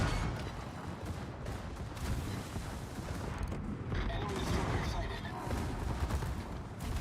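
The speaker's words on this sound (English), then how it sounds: "Secondaries firing everywhere." Battleship secondary guns firing in World of Warships, a dense continuous barrage of rapid overlapping gunfire and booms, loud and unbroken throughout with mechanical creaking underneath.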